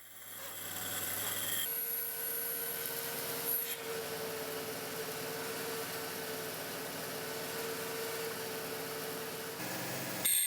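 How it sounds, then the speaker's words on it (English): A power tool takes light skim cuts to trim wooden tenons to thickness, a steady whining grind that holds for several seconds at moderate volume, with a shift in pitch near the start and a brief change at the end. "a couple more skim cuts is all it takes to bring the tenons down to the appropriate thickness"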